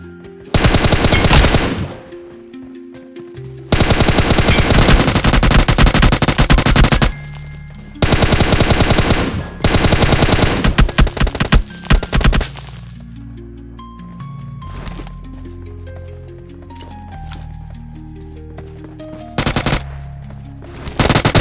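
Loud bursts of automatic gunfire from PUBG Mobile, fired while prone at close range, come in several long sustained volleys separated by short pauses, with in-game effects and quieter stretches in between.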